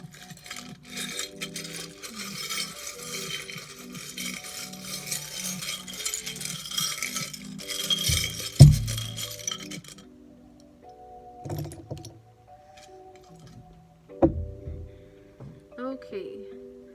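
Small metal charms from a charm bowl clatter and jingle continuously for several seconds, then a few separate clinks and knocks follow before quieter pauses.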